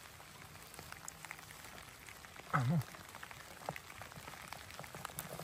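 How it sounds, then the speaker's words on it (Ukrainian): Rain patters steadily through an autumn Carpathian forest during mushroom picking, with close, scattered drop hits forming a continuous soft texture; a voice speaks briefly partway through. "Знов дощ поки."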